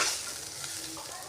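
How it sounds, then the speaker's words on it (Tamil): Ingredients for brinjal curry are stirred and sautéed in a pan over medium heat, giving a brief, quiet sizzle with a soft scrape of the spoon and no talking. "எந்த அளவுக்கு உங்களால் பொன்னிறமாக வதக்க முடியுமோ நீங்கள் வதக்கி எடுத்துக்கலாம்"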